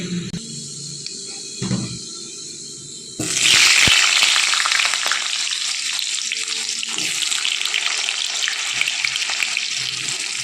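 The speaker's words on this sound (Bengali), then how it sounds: "সে আলুটা আমি একটু এই ফোড়নের সাথেই লাল লাল করে ভেজে নেব, শুধু একটু লবণ দিয়ে।" Cut potatoes fry in hot oil with tempered whole spices and salt, a loud, steady sizzle that starts sharply and runs on close up after a few quieter kitchen clatters.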